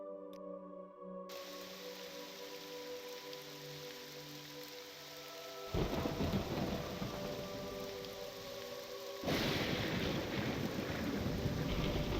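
Steady rain in a roguelite permadeath video game, a continuous hiss that thickens sharply twice into heavier downpour, with sustained musical tones underneath and no distinct thunder cracks.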